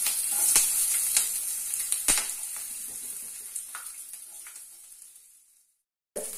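Green chili and onion sizzle steadily in a hot pan, a loud continuous frying hiss with a few sharper crackles and stirring knocks, fading toward the end before a brief burst of sizzle returns.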